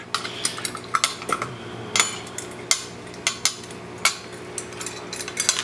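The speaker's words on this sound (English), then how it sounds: "So we'll pop those thumb screws off, pop the washers off" Small metal thumb screws and washers being taken off a Harbor Freight angle grinder guard, a series of sharp light clinks and taps at an uneven pace, close and fairly crisp, with no talking.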